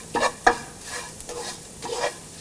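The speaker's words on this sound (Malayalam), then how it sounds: "ഈ മസാലപ്പൊടികളുടെ പച്ചമണം മാറുന്നത് വരെ വഴറ്റണം." Dry spice powders being stirred and sautéed in a pan for an asparagus stir fry, with a few scraping strokes and a faint sizzle, fairly close and quiet, no talking.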